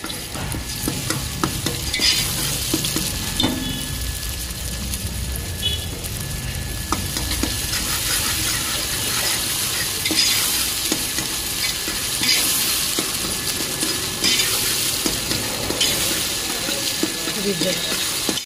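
Ginger garlic paste fries in a pan, a dense continuous sizzle with stirring scrapes running throughout, with occasional talk nearby.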